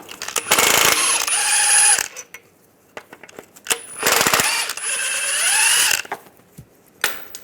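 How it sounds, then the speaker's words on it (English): Ratchet with a 16mm socket turning out rear engine mount bolts on a 1998-2010 Volkswagen Beetle, in two loud bursts of fast ratcheting clicks, close up, with quieter metallic clinks in between. "Now we're going to take these two bolts out. Use a 16mm socket."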